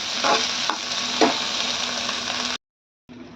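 Tomato, peas and corn fry lightly in a pan, a loud steady sizzle with a few stirring scrapes, cutting to a brief silence before the sizzle resumes more faintly; no one speaks.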